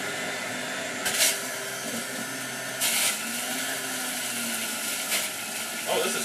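A Breville Ikon juice fountain juicer motor whirs steadily up close, with brief bursts of harsher grinding roughly every couple of seconds as produce is fed in.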